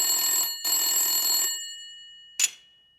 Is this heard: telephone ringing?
yes